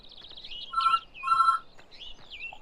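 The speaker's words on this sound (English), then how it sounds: "And there goes the phone." Farming-simulator phone ringing on the Blickling map, two short bright electronic trill bursts in quick succession, with chirpy bird-like background sounds and no speech.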